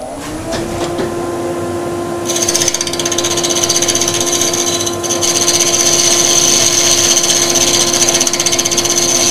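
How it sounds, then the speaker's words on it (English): Dust extractor running loud and steady beside a wood lathe during a parting cut on a log vase, a continuous whooshing drone joined by machine whine that rises and grows louder partway through. "Let me just get that dust extractor going and get a lot of dust there."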